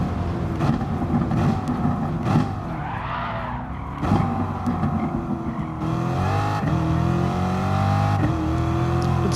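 A Corvette C7 races around the Nürburgring GP circuit in a driving video game, its engine rising and falling through braking and acceleration, with gear shifts and tire squeal on hard braking into a chicane and turn one.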